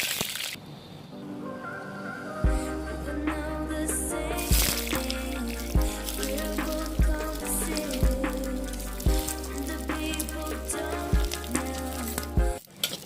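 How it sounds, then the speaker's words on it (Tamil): Onions, with mustard seeds and curry leaves, sauté in hot coconut oil in a clay pot for a crab curry: a loud, steady sizzle with occasional spatula scrapes and clinks, close up and without talk. "இந்த எண்ணெய் காஞ்சதுக்கப்புறமா கடுகு கருவேப்பிலை சேர்த்துட்டு நம்ம வெங்காயத்தை வதக்க விட்டுறலாம்."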